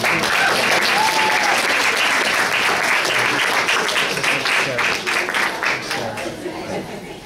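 A teen town hall crowd keeps clapping for Sandra's speech, a thick, loud wall of applause with faint murmurs and a chuckle underneath, tapering off slightly toward the end.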